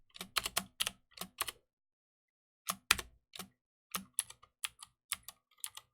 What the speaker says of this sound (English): Where are they on the Norwegian keyboard?